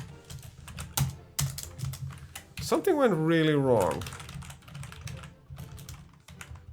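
Computer keyboard keys clatter in quick, uneven taps during a Hearts of Iron IV session, close and fairly loud, with someone speaking briefly over them in the middle.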